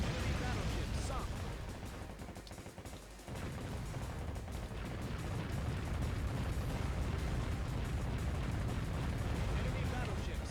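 Booming explosions and heavy gunfire from the naval video game Warship Gunner 2 as an enemy battleship is sunk, a dense continuous barrage with a brief dip before the roar resumes.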